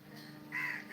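In the Tamil film Dragon, a crow lets out one short, clear caw over a quiet tonal background, with no speech.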